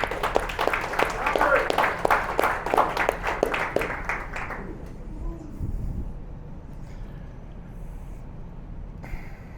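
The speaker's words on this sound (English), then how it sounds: "I think it's worth giving him a round of applause." A small meeting audience applauds a photographer, with sharp individual claps in a lively burst for about four seconds before it stops abruptly, followed by quiet room noise and faint movement.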